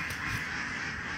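Farm ducks kept for eggs and sale quack in a dense, continuous nasal chorus close at hand for a brief moment.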